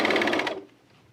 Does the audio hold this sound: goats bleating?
no